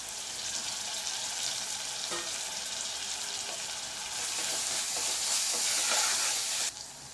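Tomatoes fry in a pan with ginger garlic paste while making an easy chicken curry gravy, giving a steady close sizzle with occasional scraping stirs.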